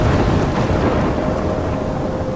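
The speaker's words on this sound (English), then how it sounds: "I'm trapped in a storm?" A thunderstorm roars with heavy rain and deep rolling thunder, loud and continuous throughout, a dense wash of noise with no clear breaks or voices.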